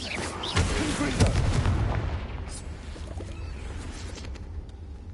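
A Confringo fire spell explodes in the video game Hogwarts Legacy, a loud booming blast that hits about half a second in and rumbles for a couple of seconds before fading into background game sound.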